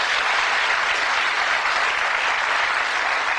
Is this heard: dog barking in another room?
no